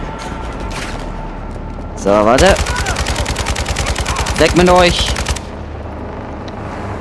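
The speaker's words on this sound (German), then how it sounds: "Oh mein Gott, alles explodiert hier." Rapid automatic gunfire bursts and explosions rip through a Call of Duty MW2 story-mode battle, loud and dense for about three seconds, while a player talks before and after.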